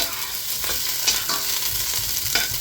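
Ginger, garlic and onion sizzle steadily in hot oil while a utensil stirs and scrapes through them in a few soft strokes, a close, continuous frying hiss without any voices.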